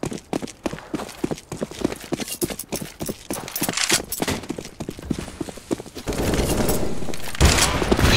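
Rapid gunshots from a Counter-Strike: Global Offensive match on the Anubis map, sharp cracks in quick irregular bursts close by, ending in a denser steady clatter of fire.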